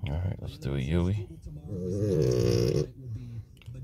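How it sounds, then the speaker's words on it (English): A French bulldog snores close by in long, rough, rattling breaths with a wavering tone, loud and steady over a few seconds. "That snoring is my dog."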